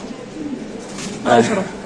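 Pigeons at a bird sale coo once, a short soft call close by, heard against background noise and nearby voices.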